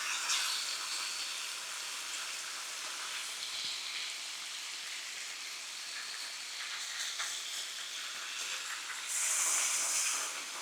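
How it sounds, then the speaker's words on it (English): Bacon sizzles on a hot griddle with a steady, bright hiss and crackle that runs the whole time and swells briefly near the end. "Bacon's on the griddle."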